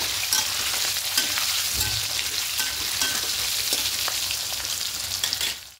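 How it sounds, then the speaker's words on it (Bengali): Potatoes frying in hot white oil give a steady, close crackling sizzle throughout, with occasional stirring clatter and no voices. "আলুগুলো দিয়ে হালকা করে একটু ভেজে নেব"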